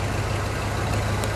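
A 1979 Lincoln Continental Mark V's 400 V8 idles through its single exhaust, recorded right at the tailpipe, a loud steady low rumble with an even pulse.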